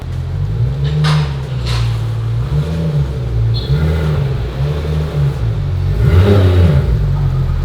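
A Porsche base car for a GT3R build rolls in with a loud, low engine rumble that rises and falls as it revs and moves closer, with a stronger surge near the end.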